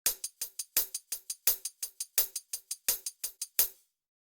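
Layered hi-hats with a harder, sharper hi-hat underneath play a swung pattern in a beat, a steady run of bright, crisp ticks alone and fairly loud, stopping after about three and a half seconds.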